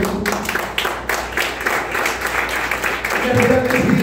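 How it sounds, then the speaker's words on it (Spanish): A large crowd claps steadily and loudly throughout a church sermon, with a voice briefly rising over the applause near the end. "Dale fuerte ese aplauso a Jesús."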